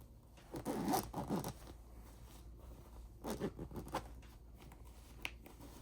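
An invisible zipper on a corded pillow is pulled in two quick raspy runs, close and fairly quiet, separated by a pause, with faint rustling of fabric afterward.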